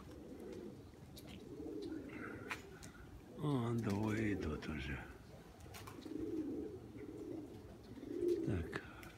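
Pigeons cooing outside a dovecote in the evening, soft repeated coos near the microphone, with someone talking over them and a louder burst of bird calls partway through.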